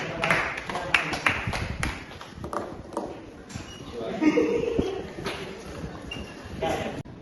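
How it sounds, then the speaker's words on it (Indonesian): Applause from a classroom audience for a presenting student group, a patter of scattered claps and taps that rises and thins over several seconds at moderate distance, with some voices mixed in. "beri tepuk tangan untuk kelompok 2"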